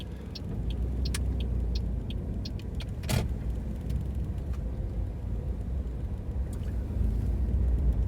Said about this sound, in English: We'll just wait for this car to go past me.